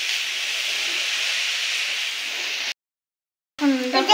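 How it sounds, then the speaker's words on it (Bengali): Grated coconut frying in a pan gives a steady, bright hiss-like sizzle for most of the stretch, then cuts to silence before a voice begins at the end. "নারকেল ভাজা হচ্ছে।"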